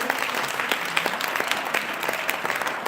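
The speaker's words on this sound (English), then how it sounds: "Andrea Scott, give her a round of applause," Audience applause for an honoree at a Women's International Day event at City Hall in New Haven, a loose, moderately loud spatter of individual claps throughout.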